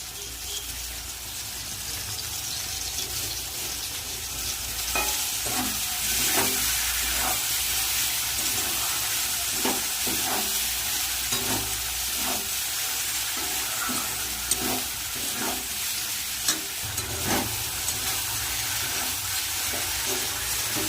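Spices with salt and red chili powder sizzle in a pan of oil, a steady hiss broken by regular scraping of a spoon as the mixture is stirred, close and alone with no talk.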